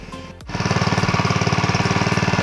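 Alkon water pump engine running close by, a loud, rapid, even chugging pulse of a small single-cylinder motor that kicks in after a brief lull and holds steady.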